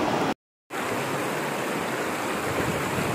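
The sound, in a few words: river flowing over rocks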